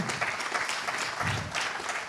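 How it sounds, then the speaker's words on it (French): A conference audience applauds five round-table panelists at a session on solar self-consumption, steady and close clapping of a full room, loud and even throughout. "on peut vous applaudir tous les 5 pour cette table ronde"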